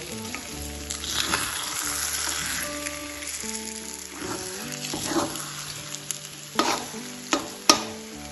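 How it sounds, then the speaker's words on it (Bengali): Egg frying in a hot pan while being slowly stirred, with a steady close sizzle, soft scraping strokes and a few sharp clicks of the spatula against the pan toward the end. "দেখুন, এইভাবে আস্তে আস্তে আমি ডিমটাকে ভাজা ভাজা করে নিয়েছি।"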